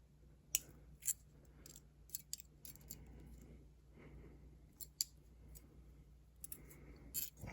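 Doorknob return spring wire being trimmed, with several quiet sharp snips and clicks spread out over a faint background hum.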